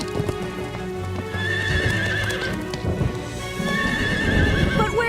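In a cartoon, a horse whinnies loudly and its hooves clip-clop during a rainstorm, with the neighs rising over steady rain and hoofbeats.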